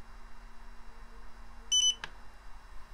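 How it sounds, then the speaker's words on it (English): Eachine EV200D FPV goggles give a short electronic beep, a brief doubled tone near the middle of a quiet stretch, followed by a faint click, with low background hum throughout. "hold down the DVR button like you're going to start a DVR recording until it beeps"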